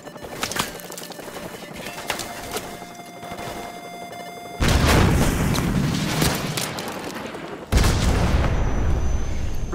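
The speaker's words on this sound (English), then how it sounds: "grab another Stinger and fire again" Stinger missile fire and explosions in Call of Duty: Modern Warfare Remastered: scattered booms and gunfire give way to two loud, sustained blasts, each breaking in abruptly and roaring on for several seconds.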